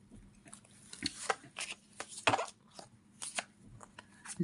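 Playing cards shuffled and turned over during a tarot-style card reading, giving a series of soft, papery flicks and snaps at close range, irregular in rhythm, with no talking.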